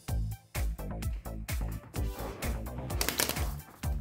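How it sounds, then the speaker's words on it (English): Twelve paper giveaway entries shuffled by hand, a quick series of close, crisp riffling bursts and soft flutters in short repeated strokes. "I'm gonna shuffle them up."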